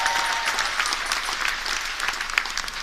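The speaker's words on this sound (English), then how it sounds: "Give them a round of applause." Steady applause from an audience on board a cruise ship honouring the ship's crew, a dense wash of many hands clapping throughout, fairly close and continuous.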